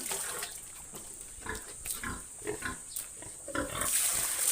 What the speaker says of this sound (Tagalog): Ito po yung aming alagang baboy